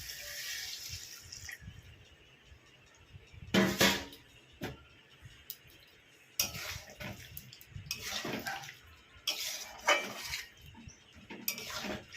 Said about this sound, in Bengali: এইবার আমি দিয়ে দিচ্ছি 1 কাপ জল।